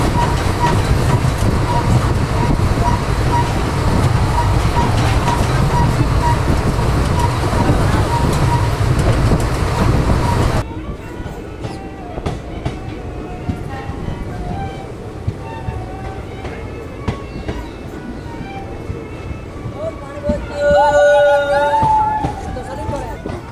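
A sleeper class train running from Jodhpur to Ahmedabad rumbles steadily with a loud, constant roar that softens midway into a quieter rattle and clatter inside the carriage, with faint background noises.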